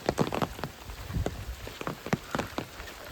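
Heavy monsoon rain patters onto a hard surface, irregular drops tapping close by, fairly quiet and with no voices.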